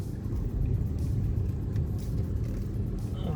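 Car driving along a narrow road with curves and speed breakers, a steady low engine and road rumble heard from inside the vehicle throughout.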